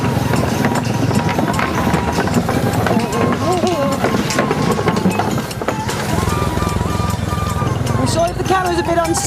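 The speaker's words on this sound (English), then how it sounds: "I'm on the back of the motorbike" Motorbike ride over rough terrain in rural Sumatra, the engine droning steadily beneath bumps and rattles while a person talks over it at close range.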